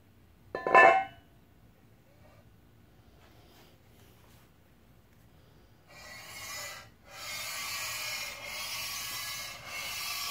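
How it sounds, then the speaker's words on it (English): A stone rubbed lightly over a used surface plate gives a steady close rasping scrape that starts partway through and continues with brief pauses, preceded by one short sharp knock. "We're going to put this down, do a light rub."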